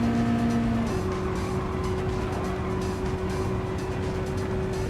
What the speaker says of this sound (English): This car definitely took that turn in full speed